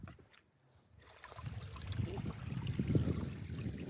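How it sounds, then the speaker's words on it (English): Water trickling and splashing in a shallow river stream as walkers cross it on foot during a spring hill walk near Derwentwater, Keswick; quiet at first, then a steady close babble of moving water with footsteps through it. "River crossing."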